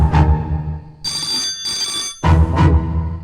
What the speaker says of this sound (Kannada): ಇದು ರಾಮ್ಜಿರಾವ್ ಫೋನ್. ಹುಷಾರ್.